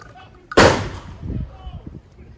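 A custom Mossberg 500 shotgun fires a slug at a shooting range: one loud, sharp blast that trails into a decaying echo and a low rumble, with no talk.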